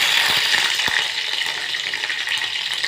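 Sliced onions and green chilies frying in hot oil for a prawn curry, a dense, continuous hiss and crackle heard up close, with a couple of soft knocks near the start.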